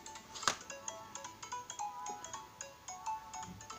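A phone ringtone playing through a homemade speaker, a repeating melodic electronic jingle with a tinny, resonant quality, fairly quiet and continuous without speech.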